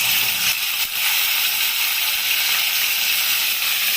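A dry red chilli, two whole cardamom pods and a piece of cinnamon sizzle in hot oil for paneer biryani, giving a steady, close, bright frying hiss with no pauses.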